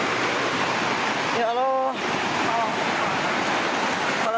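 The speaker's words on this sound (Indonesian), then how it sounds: "Air mengalir deras menerjang Kampung Cibojong dan Pasar Kaler di Desa Balewangi serta Kampung Barukai di Desa Cisurupan" A flash flood roars through Kampung Cibojong and the Pasar Kaler market in Cisurupan, Garut, West Java: a loud, close, unbroken torrent of rushing water, with a voice crying out briefly over it.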